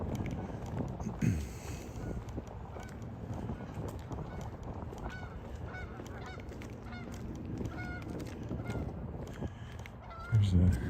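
Geese honking by a lake in Regina in September, repeated calls at mid distance over outdoor ambience, with a louder burst near the end.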